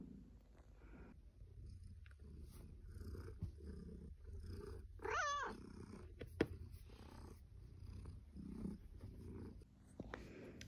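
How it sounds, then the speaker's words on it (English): A contented pet cat named Hope lies still and purrs softly and close in a quiet indoor room, a low continuous rumble with a brief chirpy vocal sound partway through and a couple of small taps. "Can you hear the purring?"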